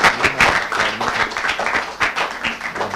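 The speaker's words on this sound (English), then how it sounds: "Then you should first of all thank them by a way of clapping." Audience clapping at a school seminar on artificial intelligence, a scattered, uneven patter of hands throughout, moderately loud and close, with faint voices mixed in.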